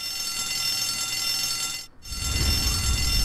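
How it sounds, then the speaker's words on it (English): A fire alarm in the video game GTA San Andreas sounds as a steady, shrill electronic ring, cutting out for a split second before resuming over a low rumble. "That's the fire alarm."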